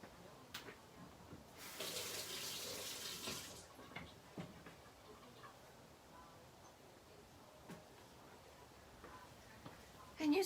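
Water runs from a tap for a couple of seconds as a paintbrush is rinsed, a soft hiss over a quiet room, with faint ticks and small knocks before and after.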